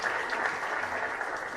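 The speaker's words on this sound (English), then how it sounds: "another round of applause, ladies and gentlemen" Steady, dense audience applause at a conference panel session of a water and environment week event, continuous and fairly loud throughout with no talking.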